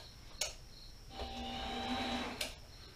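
A Pratt & Whitney Model B 12 x 30 lathe running at low volume, with a steady mechanical whir and faint tonal hum, plus a few sharp clicks at the start and end.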